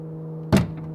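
A garden shed door without a timber frame is opened and catches against the wall, giving a single short, close thunk over a steady low hum.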